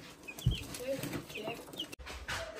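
Chickens cluck softly on a farm among other livestock, giving a few short, quiet calls while a person speaks nearby in French.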